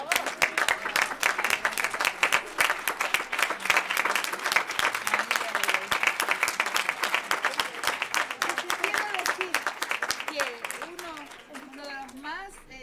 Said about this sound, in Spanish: Te despiden aplausos, un auditorio lleno y de pie.